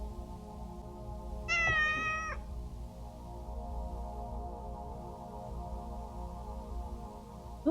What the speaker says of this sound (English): My little cat would like to say hello.